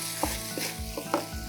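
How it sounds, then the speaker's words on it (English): Chili paneer with capsicum peppers sizzles in a hot pan while being stirred, giving a steady frying hiss broken by a few soft scraping stir strokes, close and alone. "Let's give it one final stir."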